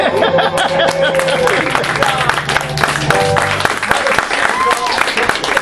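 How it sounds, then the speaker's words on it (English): Audience applause at an adult and teen improv comedy show, a dense steady patter of clapping that fills the whole stretch, with murmurs, a few voices and light laughter mixed in. "round of applause for Team A"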